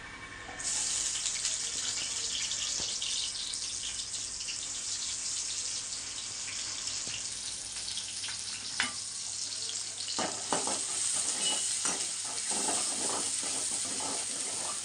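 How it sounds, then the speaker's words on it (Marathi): Cumin and finely chopped onion frying in a pan over low gas for a village-style spinach dish, heard as a soft, steady sizzle with scattered clicks and crackles growing busier toward the end, without speech. "पहिलं थोडंसं जिरं टाकायचं गॅस बारीक केलाय आणि बारीक कांदा चॉप केलेलं टाकायचं"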